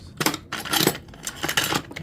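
Small metal bolts clink and rattle in several quick handfuls, stirred and shuffled in a toolbox, close up.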